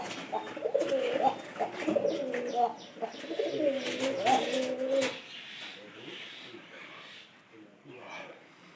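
Pigeons coo close by in repeated throaty, rolling calls for several seconds, then fade to quieter background sounds.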